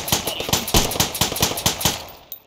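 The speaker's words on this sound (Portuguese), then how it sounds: "Opa, tá atirando em mim" Rapid gunfire in the multiplayer shooter H3VR on the Supply Raid map: a loud, close burst of repeated shots in a steady automatic rhythm, trailing off near the end.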